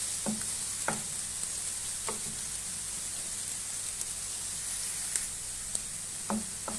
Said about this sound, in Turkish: İşte soğanımız güzelce kavrulsun